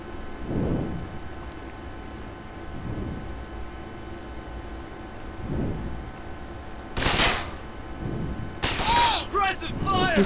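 Gunfire from a zombie mod of the video game GTA San Andreas: two loud bursts near the end, the second followed by rapid crackling shots, after a stretch of low rumbling ambience.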